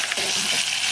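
Mustard seeds and cumin hit hot oil in a pan while cooking Maharashtrian puran poli fare, giving a loud, continuous crackling sizzle with sharp pops, close up and with no voices.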